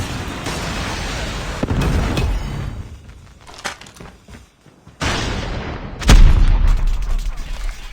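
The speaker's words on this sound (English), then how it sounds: "Predator missile inbound." Predator missile strikes hit in a multiplayer shooter game. Loud, rumbling explosions and booms fill the start, a quieter lull follows, then a heavy blast erupts with crackling debris and a lingering rumble.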